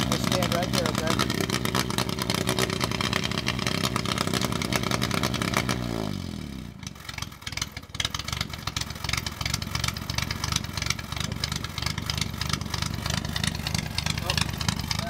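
A Triumph Spitfire engine runs with the choke on, a close, steady idle that drops in pitch and briefly dips before settling back to an even running rumble.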